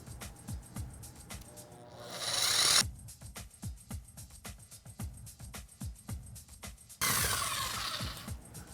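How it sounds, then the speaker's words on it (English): A hand saw cuts through a wood pallet board in two short rasping bursts, one brief and one longer near the end, with quieter knocks and handling noises between. "when I'm cutting with the saw, it won't move around a whole bunch"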